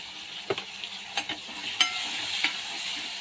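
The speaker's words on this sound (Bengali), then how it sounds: "চিংড়ি মাছটা আমার ভাজা হয়ে গেছে।" Shrimp fry in a pan with turmeric and salt, making a close, crackling sizzle. Sharp scrapes and taps from stirring come in quick bursts over the hissing oil.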